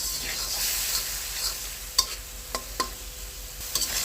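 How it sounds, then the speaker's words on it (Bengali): Shrimp sizzle in oil and spice paste in a pan while a utensil stirs them, giving a constant frying hiss punctuated by several sharp scraping knocks, close and clear with no speech. "দিয়ে আমি একটু কষিয়ে নেব মশলার ভিতরে কারণ চিংড়ি মাছটা কষিয়ে রান্না করলে খুব সুন্দর একদম নরম থাকে"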